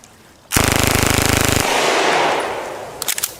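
Small pistol fired one-handed, close and loud: a rapid burst of sharp reports for about a second, a long fading ring, then a few quick softer cracks near the end.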